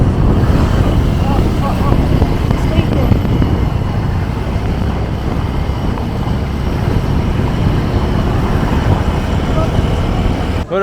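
Motorcycle ride through traffic in Cagayan province, the Philippines, with a steady, loud rumble of engine and road noise throughout and passing vehicles around.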